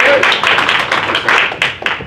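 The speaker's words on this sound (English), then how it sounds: "let's give David a round of applause" An audience at a Las Vegas real estate class applauds, a dense burst of close, loud clapping that lasts about two seconds.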